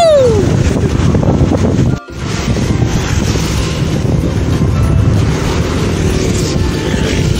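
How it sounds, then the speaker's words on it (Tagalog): Strong wind buffets the microphone steadily on a dusty road under construction, roaring broadband gusts with a brief dropout near two seconds, while a vehicle drives along. "Super abog. At super hangin."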